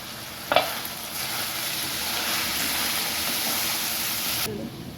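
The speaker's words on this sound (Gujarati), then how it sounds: "હવે આપણે થોડીક વાર આને તેલમાં બફવા દઈશું।" Mixed vegetables for a Gujarati Kathiyawadi sabji cooking in oil on a low gas flame, a steady close sizzle and hiss with a brief clatter near the start, continuous until it cuts off near the end.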